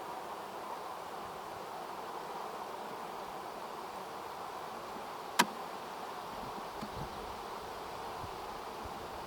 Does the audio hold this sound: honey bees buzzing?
yes